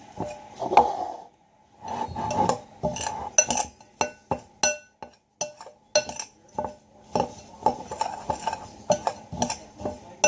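Dry flaxseed, oats and flour for hamster treats are stirred with a spoon in a bowl, giving repeated gritty scrapes and light clinks in an uneven rhythm with short pauses, close and clear.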